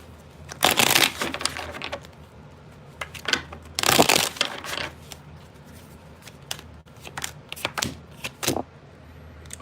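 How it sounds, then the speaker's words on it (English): Tarot cards being shuffled by hand close up, several bursts of riffling and rustling with short pauses between, loud and crisp with no talk over them. "2 more shuffles"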